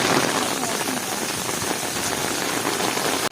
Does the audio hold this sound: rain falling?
yes